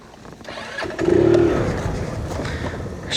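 Motorcycle starter cranking a bike's engine in the Philippines with the kill switch flipped, a loud, close grinding whir that rises, then drones on without catching.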